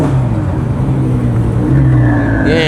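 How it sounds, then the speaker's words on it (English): A Porsche GT3 RS with turbos running close and loud, its engine holding a strong steady drone that lifts into a brief rev near the end. "Yeah, you can hear the turbos."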